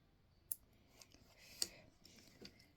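Scissors trim embroidery thread tails, giving a few faint, sharp snips spaced about a second apart in a quiet room.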